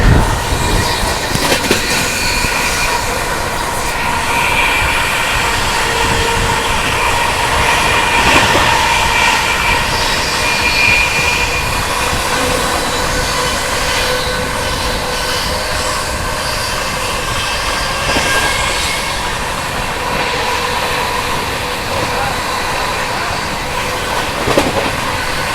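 The Rajdhani Express rushes through Shikohabad Junction at high speed, a loud continuous roar of wheels and carriages rattling on rails with rhythmic clatter, heard close from on board.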